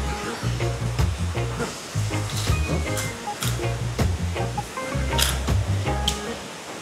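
Steady broadband rush of water from a hidden waterfall in Laguna, loud and continuous, with brief higher splashes or clatters scattered over the roar and a low rhythmic thumping underneath.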